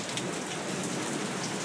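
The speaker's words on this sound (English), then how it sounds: "We are under a severe thunderstorm warning right now, and it's actually starting to let up." Steady heavy rain falls during a severe thunderstorm in Lancaster, California, a dense even hiss of drops on surfaces filling the whole moment with no voices.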